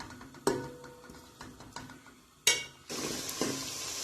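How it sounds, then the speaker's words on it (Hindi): Onions frying in a pan for gola kabab salan, a soft sizzle under sharp clinks of a utensil stirring against the pan, with the sizzle swelling louder toward the end. "ये देखें प्याज फ्राई हो रही है, हल्का सा कलर भी चेंज कर लिए।"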